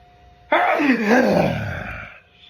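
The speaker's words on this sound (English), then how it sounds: "Hold on, I gotta sneeze." A single loud sneeze bursts out close by, trailing into a drawn-out breathy exhale before quiet returns.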